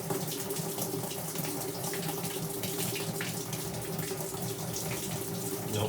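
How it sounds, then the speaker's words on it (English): Water running steadily inside a spinning Whirlpool WTW5000DW washing machine in manual test mode, with a constant rushing hiss and a faint low hum beneath, continuous and even throughout. "you can kind of hear the water going"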